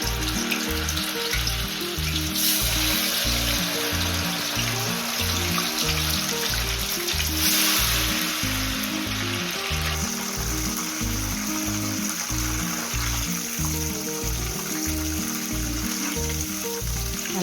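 Soya chunks for soya 65 deep-frying in hot oil, a steady, dense sizzle with bubbling crackle that runs loud and continuous throughout, with no talking.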